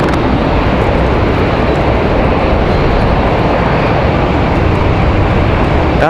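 Southwest airliner on its takeoff roll at Raleigh-Durham in windy weather, a loud, steady broadband roar of jet engines filling the whole stretch without letup.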